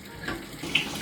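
Tap water runs steadily into a sink, the water brown from drain works outside, a close continuous rushing with a small clatter partway through.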